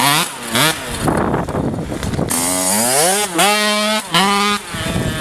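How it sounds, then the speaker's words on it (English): A cheap two-stroke motorized bike rides a rough trail, its small engine buzzing loud and close with repeated sharp revs rising and falling as the throttle is worked. "That's how you ride a two-stroke."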